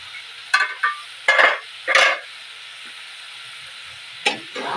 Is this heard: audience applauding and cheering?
no